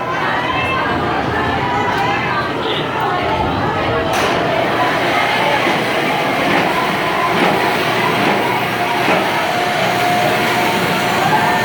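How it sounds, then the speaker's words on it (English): A B&M inverted roller coaster train with seven inversions rumbles and clatters along its track at a theme park, loud and continuous amid crowd chatter and people talking nearby. "The B&M invert coaster with 7 inversions. I love the ride, and I'm hopping on right now."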